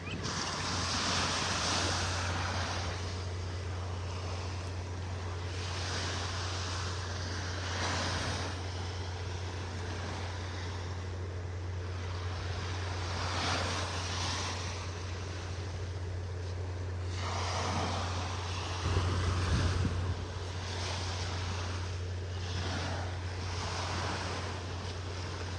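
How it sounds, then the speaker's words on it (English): Ocean waves wash steadily onto Vanderbilt Beach in Naples, Florida, with rhythmic surges of surf and a constant low wind rumble across the microphone; no one speaks. "be by the sea, as Roy would call it, the sea,"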